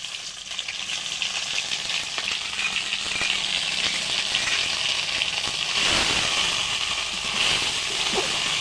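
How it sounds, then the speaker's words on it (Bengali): Kharkol leaf paste fries in mustard oil with black cumin in a pan, giving a continuous close sizzle and crackle that swells slightly toward the end, with no talking. "এবার আমি ভেজে নেব ভালো করে।"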